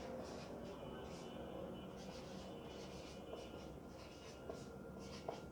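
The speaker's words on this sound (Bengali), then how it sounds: "দেখেন আমি সূত্রটা একটু এখানে লিখি" Chalk or marker writing a formula on a board, faint repeated scratchy strokes in short bursts over a quiet room hum.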